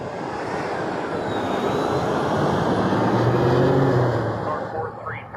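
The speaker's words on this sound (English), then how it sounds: "Number 1 is a Learjet departing from Bravo" A Learjet departing runway 23 at Toronto Pearson gives a broad, steady jet roar at a distance that swells slightly and then eases, with faint radio-style voices underneath.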